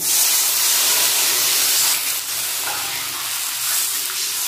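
Water poured into hot oil with fried potatoes and tilapia pieces in a pan sets off a loud, steady sizzle and hiss that holds throughout, dipping slightly midway, with no voices.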